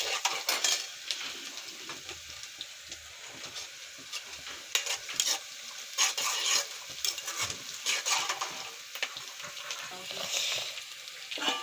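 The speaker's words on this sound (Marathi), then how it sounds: "कांदा आणि मिरची छान शिजू देऊन मस्त" Onion and green chili sizzling in hot oil in a pan for tempering, with a bright, steady frying crackle and scraping spoon strokes against the pan throughout, no talking.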